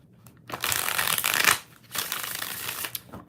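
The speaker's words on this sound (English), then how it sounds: "All right, one more shuffle." Tarot cards shuffled by hand in two quick riffling bursts, each about a second long, with a short pause between them, close and fairly loud with no talking.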